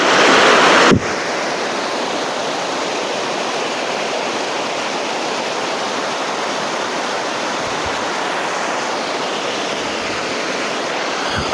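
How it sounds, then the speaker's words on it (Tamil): A wild forest waterfall in the sandalwood hills of Marayur, Kerala, roars steadily and loudly close by, a dense continuous rush of falling water after a brief louder burst at the start. "இப்போ இந்த இடத்துல நமக்கு அற்புதமான அருவியாக நம்ம காட்சிக்கு குளுமையாக இருக்குதுங்க"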